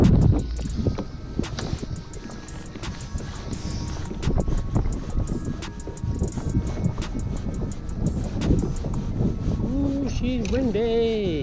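Wind buffets steadily over a New Zealand lake during a trout fishing outing, a constant loud rushing roar against the microphone, with a voice briefly heard near the end.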